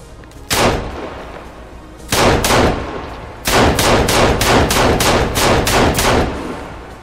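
Gunfire rings out in the survival video game Sons of the Forest, beginning with single loud pistol shots, then a quick pair, then a rapid string of about eight booming reports, each with a ringing tail.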